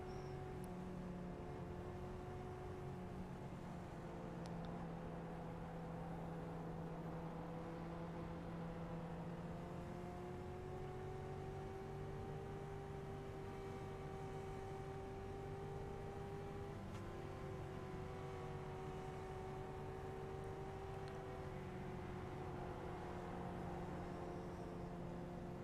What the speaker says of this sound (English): I also love the sound of these cars. They're obviously motorcycle engines, but they sound pretty cool.